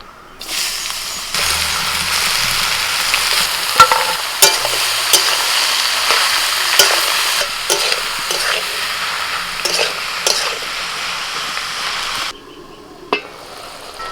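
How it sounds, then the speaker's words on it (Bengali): Bottle gourd sizzles and fries steadily in oil tempered with bay leaf, dry red chili and whole cumin, a loud continuous crackle with stirring scrapes, cutting off abruptly near the end. "ফোড়নে দিচ্ছি তেজপাতা শুকনো লঙ্কা আর গোটা জিরে এবার লাউ দিয়ে দিচ্ছি"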